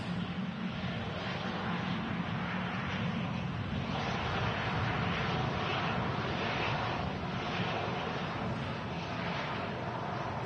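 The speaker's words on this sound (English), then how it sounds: "Ryanair's Iberia Express as well, taxiing across behind this Ryanair" Ryanair and Iberia Express airliners taxi at Manchester Airport, a constant broad jet-engine roar mixed with wind rush that stays loud and steady throughout, with no clear voices.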